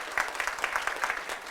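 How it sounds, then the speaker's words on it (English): Steady applause from an audience at a talk on segregation and Black Lives Matter, a dense wash of many hands clapping at moderate volume, continuous for about a second and a half with no voices over it. "Let's give Marna a warm round of applause"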